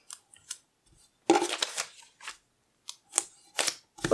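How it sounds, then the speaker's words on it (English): Scissors cut a printed paper sewing pattern for a blouse in short separate snips and rustling cuts. The sounds come in irregular bursts with quiet gaps, close up and crisp. "You can snip."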